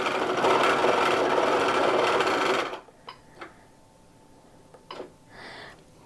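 A Grace Q'nique 16X quilting machine stitching a test run, a loud, dense mechanical whir for about three seconds that stops abruptly, followed by a few faint clicks and small handling sounds.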